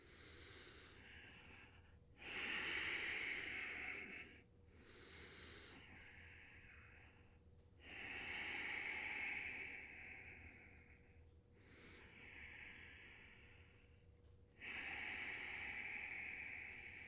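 Slow, deep breathing during a yoga forward fold in a studio class rises and falls as long airy hisses, each inhale and exhale stretching over several seconds, close and steady with no talking.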